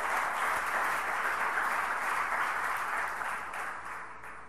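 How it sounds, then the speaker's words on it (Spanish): Sustained applause from a church congregation, a broad even wash of many hands clapping at moderate distance that slowly fades toward the end. "denle un aplauso fuerte"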